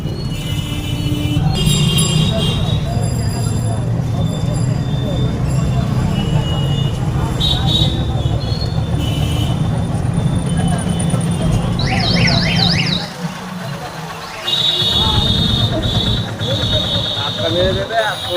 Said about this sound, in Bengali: এত বাজছে, এত গাড়ি আওয়াজ